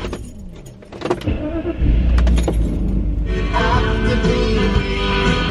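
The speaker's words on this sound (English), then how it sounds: "I need to restart the car." A car engine cranking and catching on restart, a loud low rumble settling into a steady idle inside the vehicle, with a brief jangle of keys near the start.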